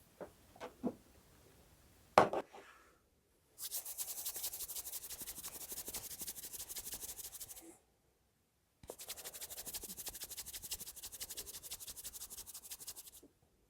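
Wet yarn ends are rubbed together to join crochet yarn, a close, soft, rhythmic brushing in two long stretches after a few faint taps.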